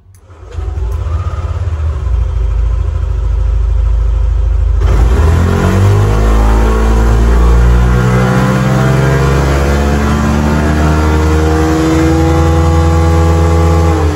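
An engine runs on a Sportdevice dynamometer during a test run. It fires up and holds a loud, close drone, then climbs steadily in a long rising rev that fills the rest of the run.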